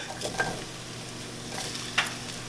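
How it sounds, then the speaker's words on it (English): Vegan steaks and asparagus frying together in a pan, giving a steady close sizzle with a few brief stirring scrapes and clicks over the hiss. "our vegan steaks are going to get cooked in the same pan as the asparagus"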